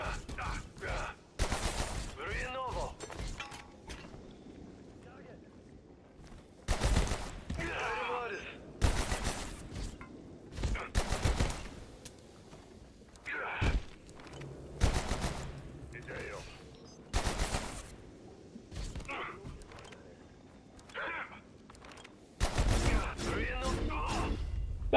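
Weapon fire in the video game Abiotic Factor comes in repeated loud bursts of gunshots spread across the clip, with quieter stretches between volleys and a person talking in between.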